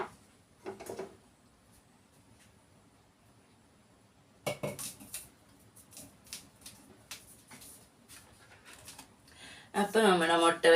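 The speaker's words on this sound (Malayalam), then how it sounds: "ചട്ടി ഒന്ന് മാറ്റി വെച്ചേക്കട്ടെ." A frying pan is moved aside on a home kitchen stove after frying egg bajji, with metal pots clattering in a few sharp bursts and a louder rattle at the end, while a person speaks quietly.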